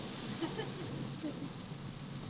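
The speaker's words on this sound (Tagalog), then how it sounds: "Ang lakas ng ulan." Heavy first rain of the season falling in Cainta, Rizal, a dense steady hiss close by with faint voices murmuring beneath it.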